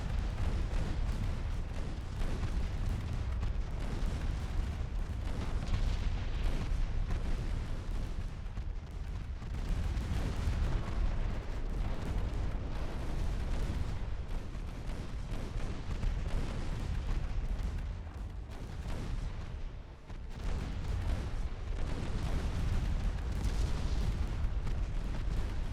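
Warship guns fire again and again in the naval battle game Ultimate Admiral Dreadnoughts, a dense, continuous wall of booming cannon blasts and rumbling explosions that stays loud for the whole stretch, easing only briefly twice.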